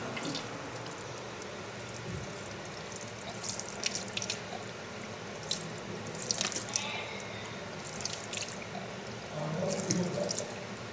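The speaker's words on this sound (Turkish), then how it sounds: "kap alıp su doldurabilirsiniz. Çeşme var burada." Water runs from the drinking fountain tap at a mosque and splashes steadily into a basin. Faint clinks and drips sit on top, and the setting is quiet with no clear speech.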